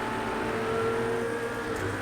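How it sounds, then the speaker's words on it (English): Racing car engine in Project CARS 2, an IMSA GTD car at Watkins Glen, droning steadily with a sustained whining tone as it drops gears into a corner, loud and continuous throughout with no talk. "Down a few gears and send it off into the carousel."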